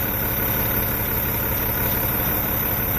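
Engine idling steadily up close with an exhaust leak from a hole in the underside, giving a constant rumbling drone with a rough, breathy edge and no talking.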